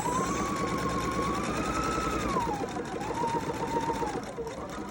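A sewing machine runs steadily while stitching a quarter-inch seam down the side of a lined fabric pocket, a close, even whirring under a speaking voice throughout.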